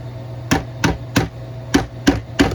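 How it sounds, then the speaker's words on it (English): Six sharp metallic strikes of a hammer on a screwdriver used as a drift to knock a part out of an Evergreen Chia crypto miner, evenly spaced and close, over a low steady hum. "We're gonna try and hammer this out by putting a nice screwdriver."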